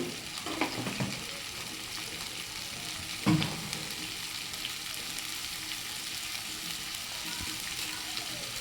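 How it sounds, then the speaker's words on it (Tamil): Bitter gourd sautés in a pan with salt, giving a soft, steady sizzle. A single louder clank of stirring cuts through midway. No one speaks. "பாகக்காய் போட்டு நல்லா வதக்கிடுவோம்"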